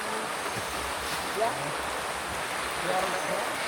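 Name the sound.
heavy rain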